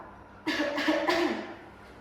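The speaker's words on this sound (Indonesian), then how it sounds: "Lalu saya akan minta Bapak untuk batuk sambil saya akan memeriksa dan mengamati" A man gives a single short cough up close during a hernia examination, a brief harsh burst that fades quickly into quiet.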